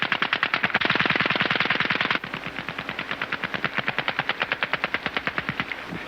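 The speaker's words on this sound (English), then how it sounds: "A particularly smooth working team within a team is the machine gun squad." An Army machine gun squad fires a machine gun in long rapid bursts, first a dense roaring stream, then a steadier run of distinct cracking shots, loud and close with no talk.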